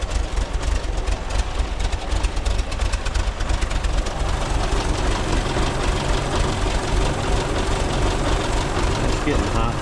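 A 1981 VW Vanagon engine idles with a steady, rough low rumble and a faint knocking pulse, close and continuous, with a voice talking over it.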